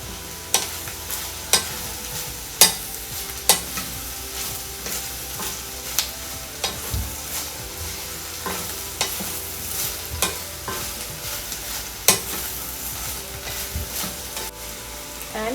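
Green beans and broccoli stir-fried with tofu for a honey garlic dish, a steady sizzle broken by sharp, repeated clacks of the utensil against the pan at an uneven rhythm, close and alone with no talk.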